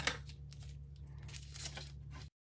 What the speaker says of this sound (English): cut the extra off with scissors